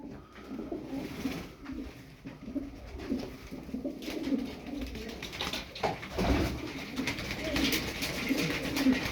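A flock of about fifteen tumbler pigeons coo in low, repeated throaty calls over a rustling background, several birds overlapping fairly close by.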